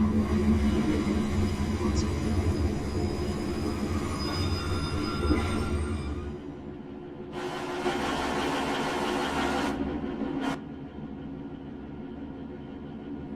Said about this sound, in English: This train is formed of 2 coaches.